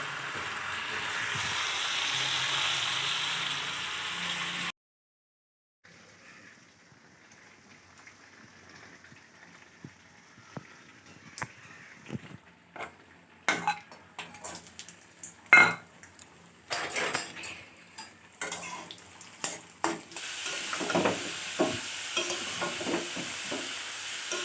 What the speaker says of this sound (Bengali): এদিকে দেখো চিকেনটা আমি কষছি।